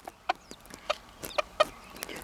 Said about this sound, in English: She's calling her little chickies over, saying, here's some food if you're hungry